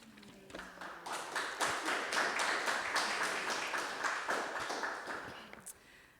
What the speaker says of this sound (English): Okay, oh, thanks for clapping, everyone